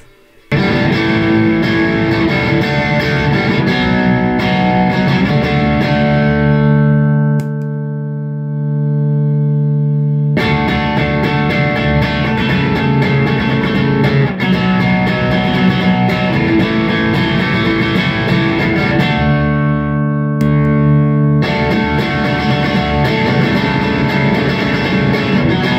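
A distorted electric guitar played through an MXR Micro Amp clean booster, loud sustained chords with bright, sparkling overtones, ringing in long strums, pausing twice as notes decay, then picking up again, with no talk.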